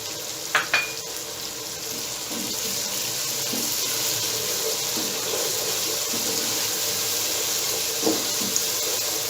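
Crushed red chili sizzles in hot oil with a soft, steady crackle and hiss, a few light clinks of a spoon or pan near the start and occasional stirring scrapes over the continuous frying.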